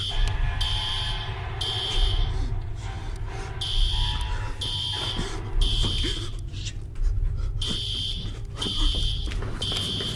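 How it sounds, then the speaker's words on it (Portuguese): A shrill electronic alarm beeps in repeated short bursts, cycling in groups over a low rumbling background, loud and persistent. "fazendo a luz ficar piscando e barulhos de alarme acontecerem."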